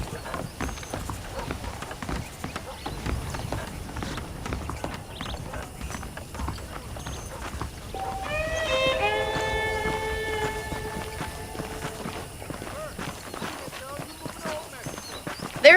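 Saddled horse hooves clip-clop steadily in Red Dead Redemption, a rhythmic stream of close taps with faint tack rattle, joined midway by a sustained tonal musical phrase over ambient game sound.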